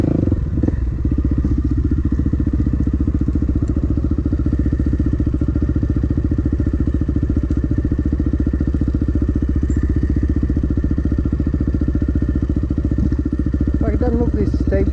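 Motorbike descending a steep, slippery dirt hill, its engine a loud, steady low chugging throughout with occasional clatter, briefly joined near the end by faint voices.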